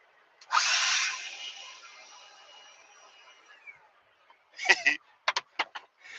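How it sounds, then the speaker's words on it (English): A leaf blower bursts into a loud, rushing whir for about three seconds, then winds down and fades, followed by several sharp knocks and clatters nearby. "I got a leaf blower for the back."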